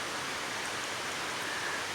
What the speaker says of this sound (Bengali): বৃষ্টি শুরু হলো